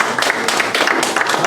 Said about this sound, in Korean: 고생하라고 박수 한번 쳐주십시오.